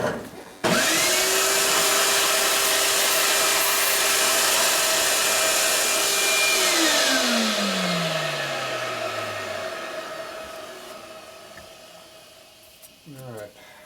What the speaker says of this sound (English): Suck the chips out.